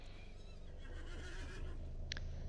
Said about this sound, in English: The dismounted king's horse.